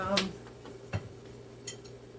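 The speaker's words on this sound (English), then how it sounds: "right now I'm just gonna cut up the banana" A knife slicing a banana on a cutting board, giving a few soft, separate taps spaced across a quiet kitchen with a low hum beneath.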